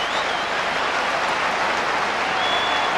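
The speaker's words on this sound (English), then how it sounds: "Appreciative applause." A football stadium crowd claps in appreciation, a dense, steady wash of applause that carries evenly from start to finish, loud and broad with no clear voices above it.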